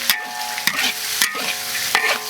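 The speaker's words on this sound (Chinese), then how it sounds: "现在就可以把这个色肉下进去炒了。 炒了一下，加入点老抽。" Pork slices stir-fried in a wok with dark soy sauce, a continuous loud sizzle broken by several scraping spatula strokes, close up with no talking.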